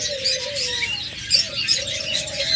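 A pair of cockatiels chirps in a bird shop, giving thin thin-toned calls and whistles over a steady hiss of chatter from many other birds, with no talking.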